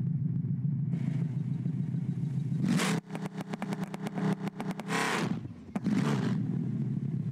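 Car engine revving for a race-start launch in Test Drive Solar Crown, a steady idle rumble broken by sharp rapid rev bursts and a rattling stutter before the revs settle back, loud and close.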